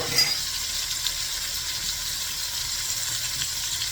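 Meatloaf browning on top of the stove in a pan, giving a steady close sizzle and crackle of frying with a faint hiss throughout, without talk.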